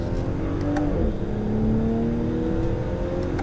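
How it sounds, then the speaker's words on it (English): A 2019 BMW X7 xDrive40i accelerating on a highway, its engine note rising steadily under constant road and wind rumble heard from inside the cabin. "give it a little bit more gas here."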